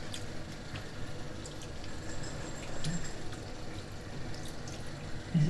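Cool water poured over chenna (fresh cheese curds) to rinse out lime in a home kitchen making Bengali rossogollas, a soft continuous splashing trickle with small drips, close and steady, no voices.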